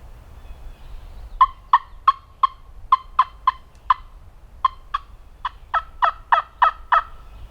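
Wild turkeys call in a field during a late-season Alabama big-woods hunt, a jake and a longbeard nearby, producing a clear series of about fifteen sharp, evenly spaced clucking or yelping notes at mid distance with quiet background.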